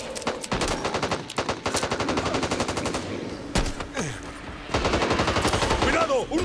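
Gunfire in the co-op zombie shooter Back 4 Blood, loud rapid automatic bursts with heavy single shots, a short pause, then another sustained burst, with game sounds mixed in.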